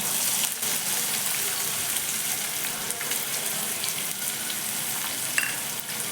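Onion and bay leaf fry in hot oil in a pan for a hotel-style cashew curry, giving a steady close sizzle and crackle with a few light stirring clinks and no voices.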